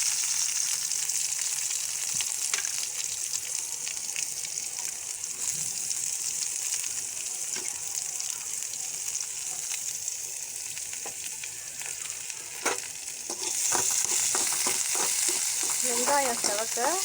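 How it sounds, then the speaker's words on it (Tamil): Sliced onions sizzling in oil in a pan while frying for beetroot masala, a loud continuous hiss with stirring scrapes near the end, close-up and without talk. "வெங்காயம் செவக்க வதக்கிக்கணும்"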